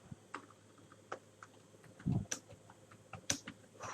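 Typing on a computer keyboard, with scattered soft key clicks in an uneven rhythm and a short burst of quicker presses near the middle. The clicks are quiet and close, with no talk over them.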